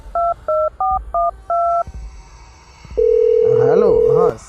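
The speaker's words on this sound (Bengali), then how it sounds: "আমি অবনীবাবুকে ফোন করি।" A telephone number dialed on keypad tones, five quick electronic beeps in a row, then a steady ringback tone that shifts into a warbling ring.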